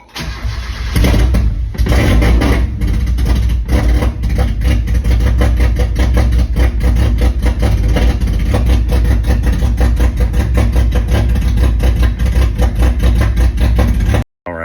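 A 1.6 Miata engine on a Link ECU cranks, catches on first startup and runs loudly and roughly at a fast, steady idle with incomplete exhaust, close by, before cutting off abruptly.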